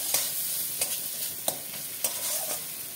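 Three beaten eggs with salt, turmeric, cumin and red chilli powder fry in a pan as egg bhujiya, giving a steady soft sizzle punctuated by four sharp spatula scrapes and taps at regular intervals, close and alone.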